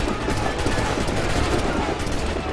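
Cannon fire in Assassin's Creed III, a dense, continuous burst of booming blasts and rattling gunfire filling the whole moment at steady loudness.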